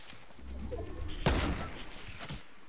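Gunfire in the Fortnite Battle Royale video game, with one loud sharp burst of shots in the middle and a fainter one shortly after, over low background game noise.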